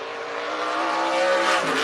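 A super late model race car on a qualifying lap at speed, a steady loud engine roar that rises gently in pitch as it accelerates, heard alone for under two seconds.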